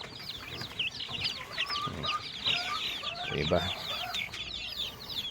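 A crowd of chicks peeping on a hot day, with high chirps running continuously and chickens clucking nearby; a voice speaks briefly over them.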